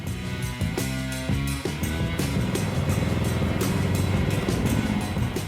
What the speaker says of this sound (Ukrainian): Сьогодні в нас на тест-драйві потужний садовий трактор штіль РТ-5097.